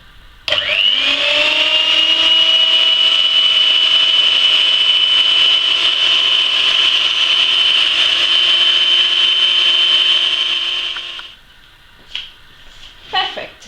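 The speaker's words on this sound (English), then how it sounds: "And we're going to mix the cream." A loud electric hand mixer whips cream for a traditional tiramisu, running steadily for about ten seconds before switching off, followed by a few brief clinks of the bowl.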